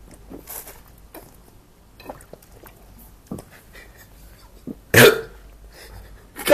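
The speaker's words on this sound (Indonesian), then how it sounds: "Batuk ya? Batuk. Oh batuk." A single sharp cough bursts out once near the end, loud and close, after a stretch of quiet with a few faint scattered sounds.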